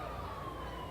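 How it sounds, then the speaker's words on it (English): Ambulance and police car sirens sound behind a crowd lining a bridge in Selma, a steady sustained wail heard at moderate distance over continuous crowd and street noise. "I hear ambulances behind me, police cars."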